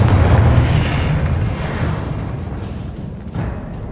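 Confringo blasting spell in the Hogwarts Legacy video game: a loud, deep boom at the start that rumbles and slowly fades over several seconds, with a smaller thump near the end.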